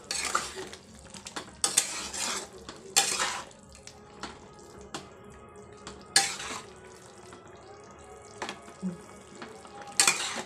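A spoon stirs raw banana and potato curry in a pot after water goes in, with sharp metallic scrapes and clinks recurring every second or two over a low simmer, close and free of talk.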